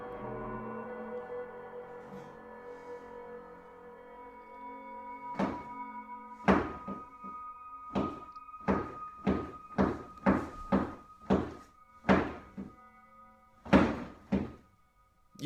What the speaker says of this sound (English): The knocking continues